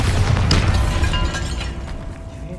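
A loud booming blast with crackling debris and a rumbling tail that fades over a couple of seconds: a Bombarda blasting spell exploding inside a tomb in Hogwarts Legacy, with no speech.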